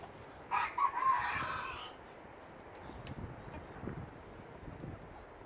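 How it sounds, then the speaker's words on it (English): A rooster in an urban backyard homestead lets out a single crow near the start, loud and drawn out for over a second, followed by quieter ambient noise and faint movement. "old Barry, always crowing."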